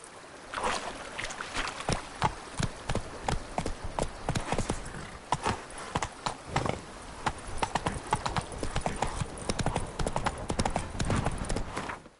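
Hooves of a horse named Roach pound out a fast, steady galloping clip-clop, close and fairly loud, with a continuous rhythm of sharp strikes throughout.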